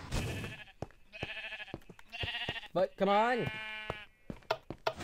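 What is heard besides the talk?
sheep bleating in the video game Minecraft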